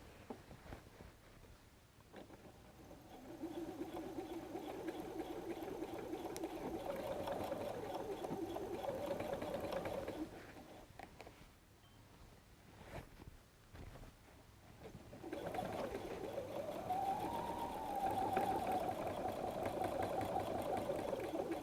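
A sewing machine runs in two steady stretches, with a short pause between them, as a 1/4 inch piecing foot guides a messenger bag flap edge at a 3.0 stitch length over an anchor. The motor hum is moderate and close by.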